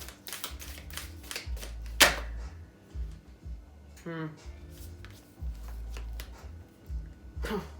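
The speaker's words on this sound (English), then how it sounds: "Okay, I think I shuffled them enough." Deck of cards shuffled by hand in a quiet room, several bursts of quick riffling and soft flicking taps, close and fairly faint, separated by short pauses.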